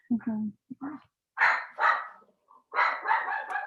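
A pet dog at home barks in short bursts, a few quick yips followed by louder clustered barks, close by, while a person talks to it in between.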